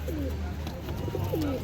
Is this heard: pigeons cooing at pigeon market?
yes